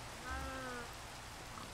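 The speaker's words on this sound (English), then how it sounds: "Gosh, it's raining again? Doesn't it ever stop raining?" Rain falls in Minecraft, a steady soft hiss of downpour throughout, with a brief tonal voice-like sound near the start.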